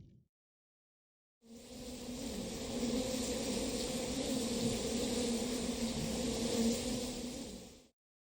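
Buzzing hive-resource cue from the video game Slime Rancher 2, a steady insect-like drone that starts abruptly, holds at an even level for several seconds, then cuts off, with no talking.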